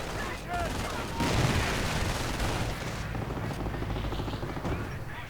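Gunfire crackles in a World War II strategy game battle: dense, continuous bursts of rifle and automatic fire with booming hits, loud throughout and layered under a commentator's voice.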